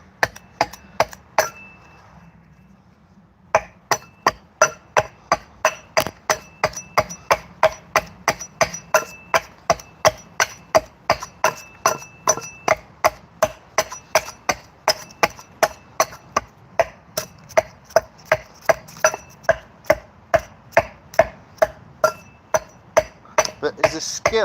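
An axe chops into heavy ash timber, striking about twice a second in a long, steady series of sharp, loud, close impacts after a short pause near the start.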